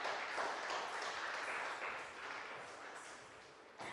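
A stage audience at a Salangai Oli dance event applauds to welcome a dancer: a steady, faint wash of many hands clapping for several seconds from a distance, tapering slightly near the end.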